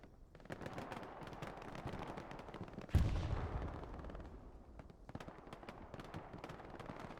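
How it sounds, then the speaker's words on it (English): A bombing run in a Hell Let Loose competitive match, a heavy explosion boom landing mid-clip amid a steady patter of distant rifle and machine-gun fire, with no voices. "Bombing run, I believe it nailed the garrison on the mark."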